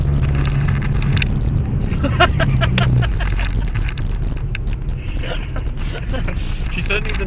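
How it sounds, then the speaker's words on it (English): Inside a new car being test driven that needs an alignment, a loud low humming vibration while accelerating, mixed with wind-like rumble and intermittent rustling and talking. "there's like a huge humming noise because of the alignment"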